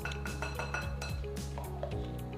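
A spoon clinks quietly and repeatedly against a bowl while red velvet cake batter with added food coloring is mixed, in a soft steady rhythm over a low background hum.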